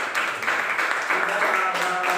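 Classroom students clapping together in brief, steady applause, moderately loud and fairly dense, with some voices underneath.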